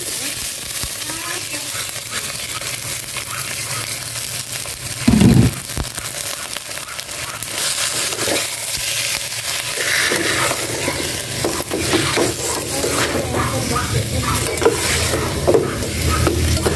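Ingredients sautéed in a pan: continuous close sizzling with stirring and scraping, a short thump partway through, and the frying growing louder and denser toward the end.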